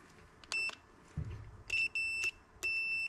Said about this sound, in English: Just putting my electric meter on a diode or continuity setting